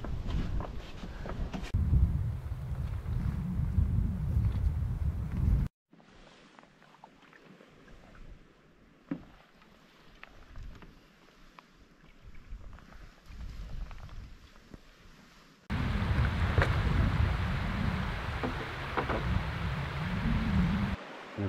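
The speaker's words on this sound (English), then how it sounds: "Oh my God, the wind." Strong wind buffets an outdoor microphone during canoe camping in the Algonquin wilderness, loud roaring gusts at the start and end with a quieter, calmer stretch in between; no talking.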